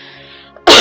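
A single loud, sharp cough bursts out close to the microphone after a near-silent stretch with a faint low hum.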